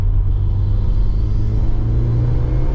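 A Ford Escort Cosworth's big turbo engine revs under acceleration, a loud, deep rumbling drone heard steadily from inside the car without talk.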